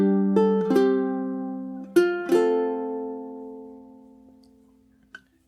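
Low-G ukulele played fingerstyle on a passage: a few plucked notes and chords ringing out clearly, alone, then decaying slowly into near silence.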